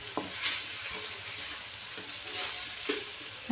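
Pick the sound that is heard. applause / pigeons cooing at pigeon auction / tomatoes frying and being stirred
tomatoes frying and being stirred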